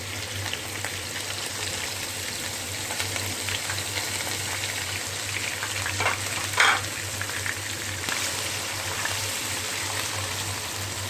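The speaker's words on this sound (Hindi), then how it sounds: "प्याज को हम यहाँ पे भूनेंगे तकरीबन इसको लाल होने तक" Chopped onions frying in a pan for achari chana, a steady close sizzle running throughout with a brief louder stir or crackle burst partway through, no voices.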